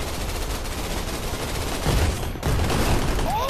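Rapid gunfire from dual pistols in the VR shooter Gun Raiders, a dense, loud run of overlapping shots that swells again after a brief dip, with no voice over it.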